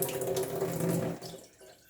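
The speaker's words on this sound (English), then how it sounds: "You want to do it until the water is running clear." Kitchen tap water runs steadily into a sink as rice and lentils are rinsed for kitchari, a close, continuous splashing rush that fades away toward the end as the flow stops.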